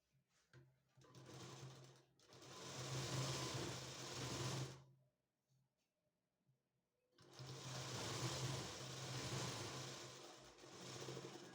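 Sewing machine stitching darts on a blouse, running in two long steady bursts separated by a short quiet pause.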